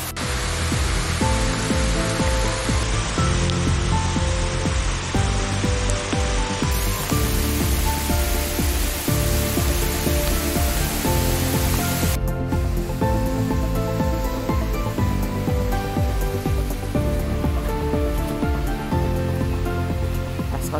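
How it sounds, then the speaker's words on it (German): Steady, dense rain hisses continuously and loudly on Raiatea, French Polynesia, like a heavy downpour or rushing water, with no pauses throughout. "Irgendwie hat es angefangen zu regnen."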